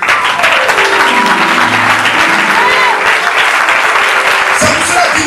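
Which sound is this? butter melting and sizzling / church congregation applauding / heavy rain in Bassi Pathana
church congregation applauding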